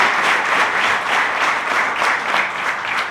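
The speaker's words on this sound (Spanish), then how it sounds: "aplausos para Coco" Audience applause for a speaker named Coco at a talk on leadership and security in Argentina: a sustained, loud wash of many hands clapping, steady and dense throughout with no speech over it.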